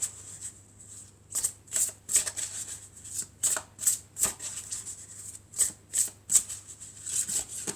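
Oracle cards are shuffled by hand in a string of short crisp riffles and taps, each burst sharp and papery, spaced irregularly over a quiet low hum.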